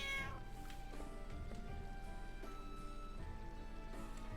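A cat in the game Final Fantasy IX, sitting on top of a stove, meows several times in short drawn-out calls over quiet background game music.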